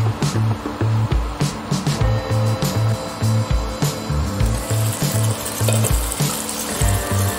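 Onion and tomato cook in a covered pan for egg bhurji, giving a steady, close sizzle and bubbling with a regular low pulsing rhythm throughout, no voices present.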